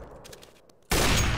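Gunfire in Counter-Strike: Global Offensive: after a near-silent stretch with faint tapping, a sudden loud, dense burst of shots erupts and sustains to the end.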